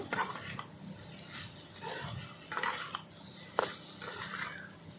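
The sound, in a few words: stirring dried fish with pumpkin in a pan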